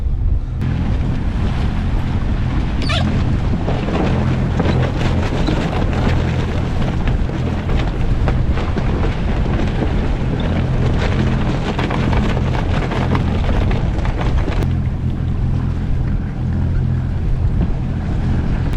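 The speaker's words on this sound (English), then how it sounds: "the wind is coming almost on my face" Strong wind buffets a sailboat at sea off Denmark, roaring loud and close for the full length, with steady broadband rush, water wash beneath and no talk.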